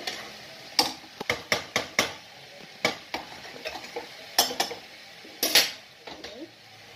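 A lid settles onto a pot of bottle gourd cooking over a low flame, with a series of sharp metallic clanks and taps at an uneven rhythm, close and fairly loud.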